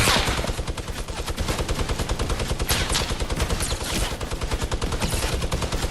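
Rapid gunfire in the Fortnite video game, dense continuous automatic bursts from more than one shooter, loud and close throughout with no speech over it.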